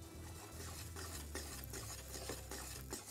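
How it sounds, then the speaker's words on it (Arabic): Chicken thighs with pineapple and cream stirred in a pan, close spoon scrapes and clinks repeating in a quick rhythm over a soft sizzle. "واقلب مع بعضه."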